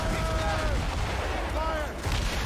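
Ship cannon fire in the Assassin's Creed Rogue video game: a dense, rumbling barrage of heavy booms that runs without a break, while a voice shouts over it.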